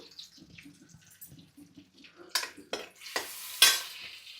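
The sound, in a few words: garlic frying in a pan for hariyali chicken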